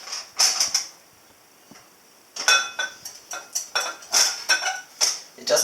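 Whisk clattering against a bowl while beating duck egg mayonnaise, in two bursts of quick metallic scraping and clinking separated by a pause of near silence, close and fairly loud.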